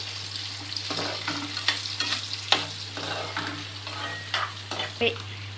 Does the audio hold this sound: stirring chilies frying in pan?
yes